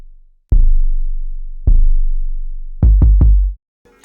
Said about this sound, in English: It's like a kick with a really low bass at the end.